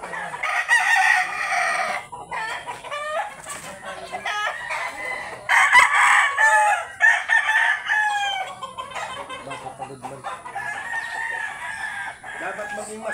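Roosters crow repeatedly at a gamefowl farm in Sorsogon, several overlapping calls ringing out loud and near throughout, with clucking and a faint voice in the background.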